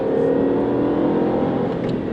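Engine of a 2016 Mini Cooper 3 Door Hatch revving during a downshift into second gear, a steady, loud droning engine note heard from inside the car without talk.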